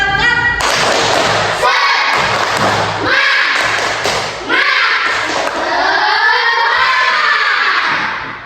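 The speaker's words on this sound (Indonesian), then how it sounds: "kita sama-sama tepuk semangat" A group performs a rhythmic spirit clap at a morning gathering, loud sharp claps in patterned bursts with shouted chanting mixed in, close and energetic throughout.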